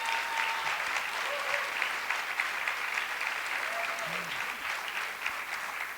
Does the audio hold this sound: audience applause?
yes